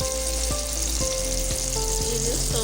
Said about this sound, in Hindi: जब तक ये फ्राई हो रही है